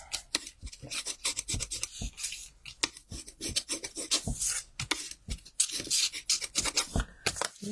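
Paper on a handmade card is rubbed down by hand in quick, irregular scraping strokes, close and fairly soft, each rasping pass distinct with short gaps between.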